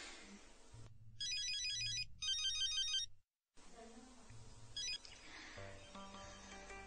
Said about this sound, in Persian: هارون تلفنت زنگ میزند.